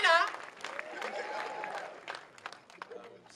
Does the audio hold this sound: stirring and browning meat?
no